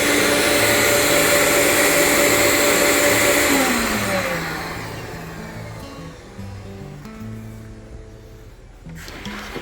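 A CNC vacuum hold-down pump on a Onefinity machine runs loud and steady, with a broadband whirring roar that eases and settles lower midway through as the suction builds.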